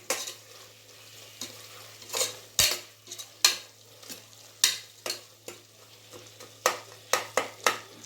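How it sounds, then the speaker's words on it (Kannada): Masala with coriander powder being stirred and fried in a pan for mushroom biryani: a steady low sizzle under repeated sharp scrapes and clinks of a spoon against the pan, close and fairly quiet, no talking. "ಫುಲ್ಲು ಮಸಾಲೆ ಎಲ್ಲ ಚೆನ್ನಾಗಿ ಫ್ರೈ ಆಗಲಿ."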